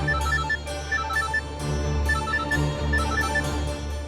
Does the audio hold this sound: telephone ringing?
yes